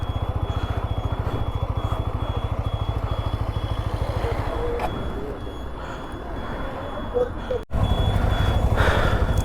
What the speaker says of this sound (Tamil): வண்டி வருது.